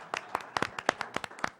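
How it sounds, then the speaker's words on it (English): A small group claps at a county public hospital board meeting, with sparse, distinct handclaps in an uneven rhythm that sound close and fairly quiet. "You can clap."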